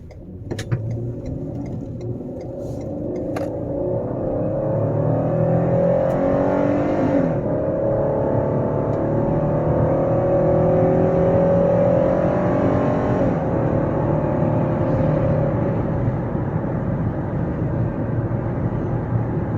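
A 2016 Ford Police Interceptor Utility with all-wheel drive accelerates onto a highway from the cabin, its engine climbing in a steady, loud drone that builds and holds over rising road and wind noise.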